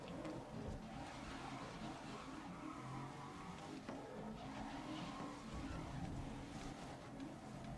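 A race car in the GRID racing video game slides sideways with tires skidding, a long continuous squeal and rumble layered over the engine noise. The sound is fairly faint and steady, with no voices.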